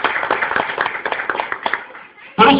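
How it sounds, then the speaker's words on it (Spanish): A church congregation claps in dense, scattered bursts under a preacher's Spanish speech, the applause thinning out before a sudden loud swell at the end. "si quiere dar un aplauso al Señor también"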